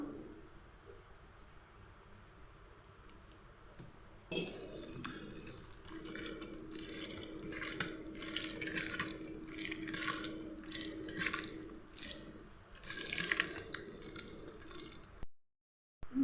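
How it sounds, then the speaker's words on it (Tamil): Water is poured into a dragon chicken batter and mixed, giving soft wet dripping and squishing sounds that are faint and close, with no talking. "கூட கொஞ்சம் தண்ணி ஊற்றிக்கலாம்."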